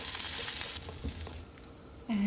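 Paneer pieces fry in a pan and are tossed lightly, a steady close sizzle with soft scraping and clinks, briefly quieter before the sizzle swells again at the end.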